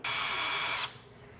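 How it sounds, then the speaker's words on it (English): Power drill fitted with a 12-inch bit boring through a wall with metal and wood studs, a loud steady high-pitched whine that starts abruptly and cuts off after under a second, leaving quiet room noise. "we're gonna drill through the wall right there. I got a 12-inch bit in my drill"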